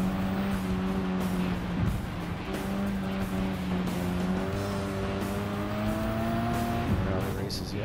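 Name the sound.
GTR car driving in Gran Turismo 7 video game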